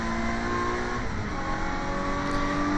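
A classic saloon race car powers down the Bentley Straight at Snetterton, its engine a loud, steady, high-revving roar with shifting tones, close and continuous with no talk.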